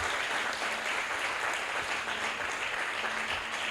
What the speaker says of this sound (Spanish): ¿Cuánto le dan un aplauso al Señor Jesús por lo que Él hizo por nosotros?